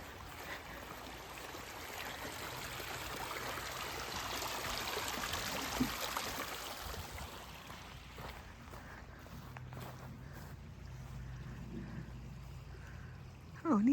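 Steady soft trickle of a small creek flowing nearby along the Appalachian Trail, a gentle continuous wash with faint scattered knocks and movement.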